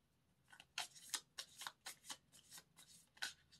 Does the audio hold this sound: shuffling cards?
yes